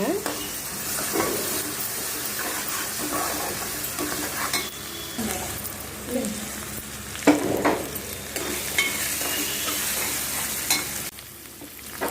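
Ginger-onion paste frying in a pan for pulasa fish curry, a continuous close sizzle broken by frequent stirring and scraping, with the odd clink of a utensil and no speech.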